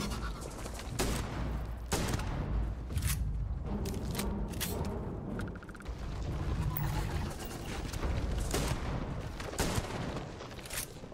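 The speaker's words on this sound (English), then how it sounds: "This shotgun wrecks them, though, and I have plenty of ammo" Repeated shotgun blasts in Starfield ring out over roughly eleven seconds, sharp and loud, spaced irregularly a second or so apart amid a dense, noisy combat background with no talk.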